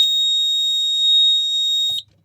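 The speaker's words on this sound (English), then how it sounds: "That buzzer is horrible." A Kentec Syncro addressable fire alarm panel buzzer sounds a steady, shrill continuous tone for about two seconds, loud and close, then cuts off abruptly into silence.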